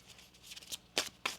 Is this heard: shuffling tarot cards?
yes